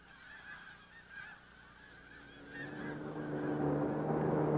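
A flock of migrating snow and blue geese honks in scattered, faint calls that swell into a louder, denser chorus toward the end.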